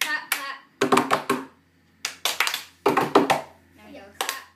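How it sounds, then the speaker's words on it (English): Hands clap in short bursts of several quick claps separated by pauses, close and sharp, with a child's and an adult's voices speaking between and under the claps indoors. "So just clap, clap."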